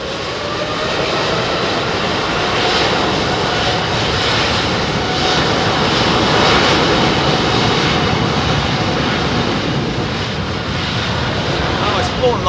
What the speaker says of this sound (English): it's more than likely the FedEx MD-11's always in a standstill